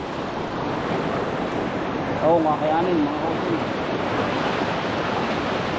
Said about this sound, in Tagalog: tatawid po tayo sa napalaking baha